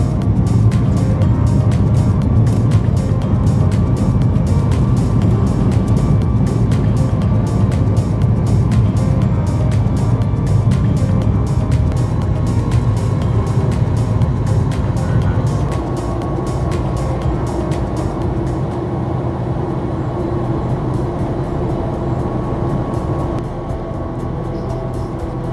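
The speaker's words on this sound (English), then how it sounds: "Takeoff was smooth and pretty quiet." Steady loud engine roar fills the cabin of an Alaska Airlines airliner as it takes off, a broad continuous rumble that eases to a slightly lower hum partway through.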